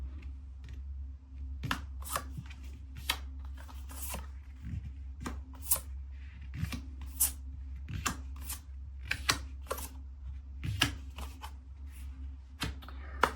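Close, crisp snaps and shuffling taps of tarot cards being handled and turned over, coming irregularly every second or so over a quiet steady hum, with no voice.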